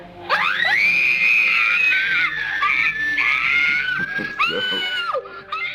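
Several girls scream in high-pitched, sustained bursts that rise and fall over a few seconds, loud and close, with a short break before a final shriek.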